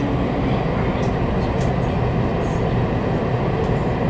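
A train in Kaohsiung rumbles steadily from inside the carriage, a constant close rolling roar with no breaks, broken only by faint squeals.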